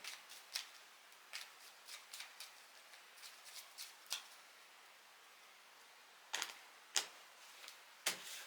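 Tarot cards being shuffled by hand give soft, intermittent riffling snaps and flicks, quiet and close, spaced irregularly with a short pause before a few louder flicks near the end, with no talking.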